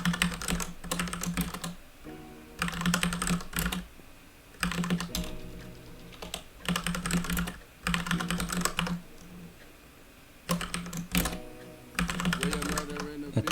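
Code typed quickly on a computer keyboard, close rapid key clatter in bursts of a second or two separated by short pauses, repeating throughout.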